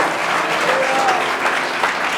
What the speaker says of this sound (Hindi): क्यों ना जोर से ताली बजाएं।